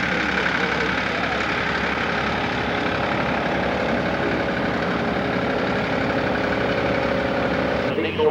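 Diesel-powered pulling truck with three turbos, running at a 1995 truck and tractor pull in Central City, Kentucky; a loud, steady engine roar holds throughout with no pause, and crowd noise sits underneath.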